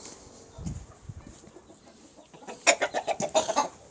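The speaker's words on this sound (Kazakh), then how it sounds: "Мына бізде тауықтар қазір жүрген." Chickens cluck in a farmyard, with a few low soft clucks early on, then a loud close run of rapid repeated clucking calls in quick rhythm near the end.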